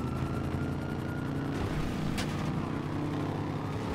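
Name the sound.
police helicopter in video game GTA 5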